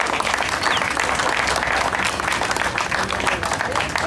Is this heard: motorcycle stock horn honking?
no